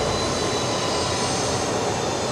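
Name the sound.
Fokker 70 jet engines spooling up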